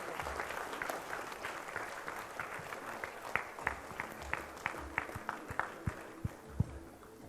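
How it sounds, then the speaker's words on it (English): Audience applause at the inaugural session of a Lions District 317F annual convention: a steady, moderately quiet patter of many hands, with a few sharper individual claps standing out toward the end. "A big round of applause,"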